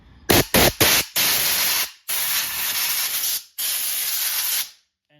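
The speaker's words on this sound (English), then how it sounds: "we're going to take our handy dandy compressor, and we're going to blow out all the corruption out of there" An air compressor nozzle blows dirt out of the spark plug wells on a 2014 Yamaha Bolt 950cc motorcycle: three quick sharp bursts of hissing air, then three longer blasts separated by brief pauses, loud and close.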